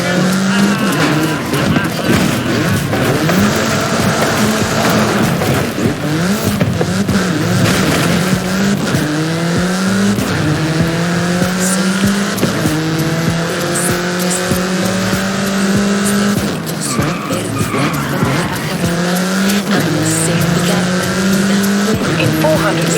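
A car races at high speed in the video game Forza Horizon 5. The engine revs rise and fall through repeated gear shifts, with tire squeal, and voices talk over the driving.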